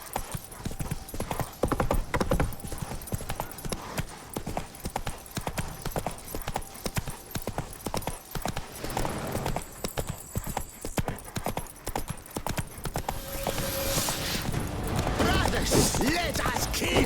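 Roach the horse from The Witcher 3 gallops in a steady clip-clop of hooves, loud and close, over a busy wash of game ambience with shouting voices and battle noise near the end.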